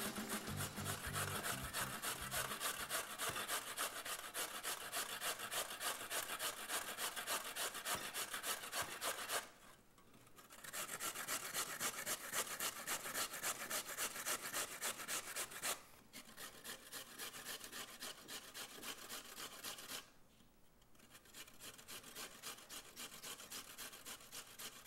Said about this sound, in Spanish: Aquí lo estoy rallando con la parte más gruesa del rallador